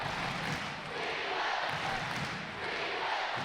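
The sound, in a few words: ice hockey crowd cheering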